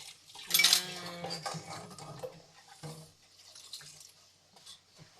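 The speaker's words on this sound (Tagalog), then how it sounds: "samahan niyo ako sa aking paglinis ng plato" Plates and spoons are washed at a sink, with close clinks and scrapes of dishes and cutlery, one sharp clatter near the start, then softer handling with faint water sounds.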